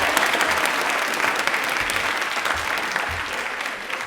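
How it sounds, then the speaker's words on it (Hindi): A studio audience at a televised Indian Railways quiz show gives a contestant a burst of loud, even clapping that carries on for several seconds. "ताली एक बार जोरदार हो जाए इनके लिए"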